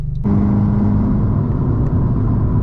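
A Fiat 500 Abarth EsseEsse Stage 1 with its opened stock exhaust bursts to life after a brief quiet moment, then holds a loud, steady, close engine drone with a throaty rumble for the rest of the clip, no voices.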